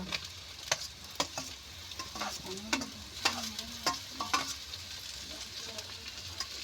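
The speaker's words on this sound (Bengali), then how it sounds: "কাঁচা লঙ্কা রসুন কুচি দিয়ে আমি ভালো করে এইভাবে ভেজে নেব" Green chili and chopped garlic frying in a pan for chana masala, with a steady sizzle and several sharp clinks and scrapes of a spoon stirring, close up and without talk.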